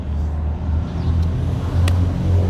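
Street traffic noise: a continuous low rumble of passing cars with a faint brief click, steady and fairly loud throughout.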